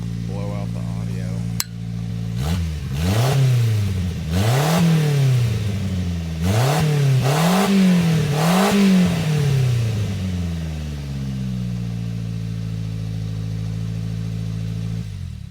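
A Subaru Sambar engine with a custom TT behind-the-bumper exhaust muffler, recorded close to the exhaust, idles and then revs in five or six loud rising-and-falling bursts before settling back to a steady idle.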